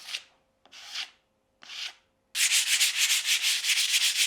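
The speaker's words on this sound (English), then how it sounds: "The more you leave filler, the easier it then sands off." Hardened filler on a wall is sanded smooth: three separate short rubbing strokes, then a rapid run of steady back-and-forth scrubbing, close and loud, with no talking.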